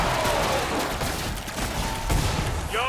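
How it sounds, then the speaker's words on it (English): Winchester lever-action rifle shots in Killing Floor 2 fire amid loud, busy combat against a Fleshpound, sharp reports blending into dense game noise with a brief effect sweep near the end. "that's 4 to 5 shots on the flesh pound with the Winchester"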